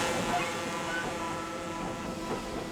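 A small 1864 railway carriage coupled into a train and rolling along, a steady rumble of wheels and running gear with faint rhythmic clatter, continuous and fairly close.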